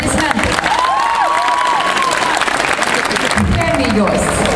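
Applause fills a school graduation ceremony hall, a loud, sustained wash of many hands clapping with a crowd murmuring, while a voice briefly sounds over it.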